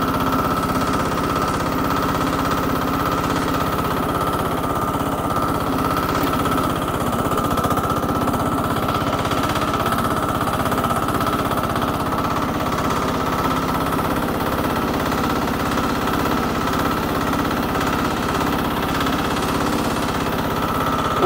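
An Agroray AR-TH16DE mini tractor with a rotary tiller attachment runs with its throttle opened up, giving a loud, steady, close engine drone with rattling vibration that holds unbroken for over twenty seconds.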